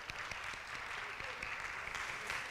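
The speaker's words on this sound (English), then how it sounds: "let's give a round of applause to the ladies that made it" Audience applause at a Ladies Day gathering, thanking the women who made the brunch: a steady, dense wash of many hands clapping for the whole stretch, fairly soft and even, with no one speaking over it.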